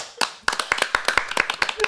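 A small group of people clap unevenly for about two seconds to give someone a hand, the claps close and sharp with a brief voice mixed in near the start.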